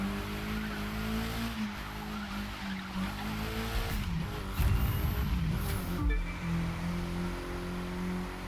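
Tires skidding and squealing on a KTM X-BOW R in The Crew 2 street racing, steady engine drone underneath with a louder burst of tire noise midway, continuous and close.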